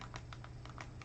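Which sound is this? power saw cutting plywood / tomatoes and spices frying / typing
typing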